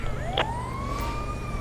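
An ambulance siren in the LSPDFR police mod, called to Mirror Park, wails loud and close in one long rising sweep that holds steady, with a brief burst of noise near the start.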